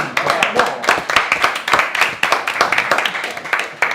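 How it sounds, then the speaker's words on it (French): Clapping from a small group at a dinner gathering greets the first dish, fresh salmon tartare, with quick, irregular claps running steadily close by for about four seconds while voices murmur underneath. "Eh bien je pense qu'on peut applaudir ce premier."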